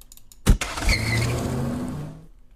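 A sharp thump, then a car engine revving with a squealing tire screech layered over it, fading out after about two seconds.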